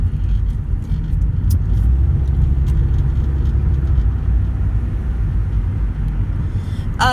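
Inside a moving car, a loud, steady low road rumble and engine drone fill the cabin throughout, with occasional faint ticks and a brief squeaky rattle near the end.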